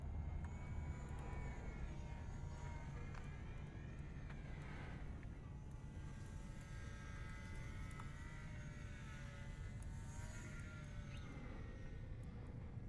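A 400mm RC plane flies outdoors, its small electric motor and two-bladed propeller buzzing steadily, the whine rising and falling as it passes nearer and farther.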